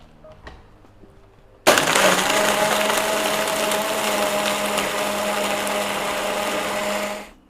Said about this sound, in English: This is hot coffee into a blender full of ice, and we start blending.